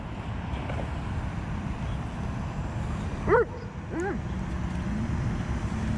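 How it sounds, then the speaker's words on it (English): A dog in Shore Road Park, Bay Ridge, Brooklyn, barks at a flying drone: two short, sharp barks a moment apart, fairly close, over steady wind and a low background hum. "This dog does not like that drone."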